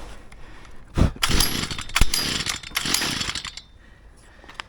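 A gas leaf blower's small two-stroke engine is pulled over, catches and runs with uneven revving bursts, close and loud, then settles toward idle.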